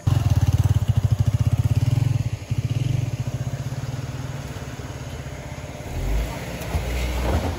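A motorcycle engine chugs with a rapid, pulsing thump close by, then settles into a lower rumble as it idles and revs again.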